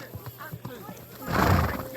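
A horse whinnies loudly and close in Kingdom Come Deliverance 2, a shrill rising neigh swelling over the last half-second after a stretch of quieter hoof and ambient game sounds, with faint speech underneath.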